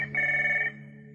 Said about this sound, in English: The telephone in front of him rang.